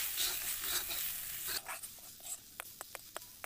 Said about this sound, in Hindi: ये सूखे मसाले हैं इसलिए इसे भूनने में ज़्यादा समय नहीं लगेगा